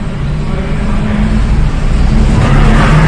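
A Toyota Kijang LGX climbs a spiral parking ramp at Royal Plaza Surabaya in second gear on half clutch, its engine a steady, close, low drone throughout.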